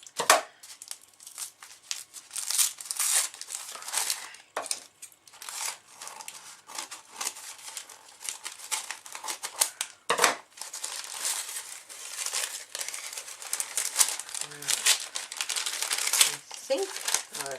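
Hands working open a well-sealed mail package, with continuous crinkling and crumpling of packaging, rustles, tears and tape scratching at close range, while someone talks intermittently over it.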